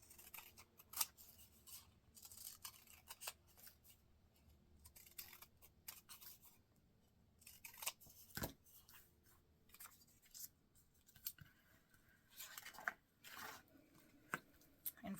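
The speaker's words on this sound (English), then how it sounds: "Just going to cut that a little bit smaller." Scissors make close, intermittent snips through paper as a paper bookmark craft is trimmed smaller, with quiet pauses and rustling between cuts and no talking.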